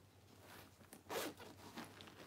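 A zipper drawn along the back pocket of a leather backpack, a few short scratchy pulls with one louder stroke in the middle, close up and quiet, with no talking.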